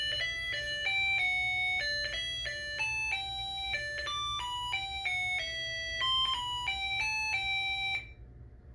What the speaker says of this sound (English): it plays the happy birthday song on this thing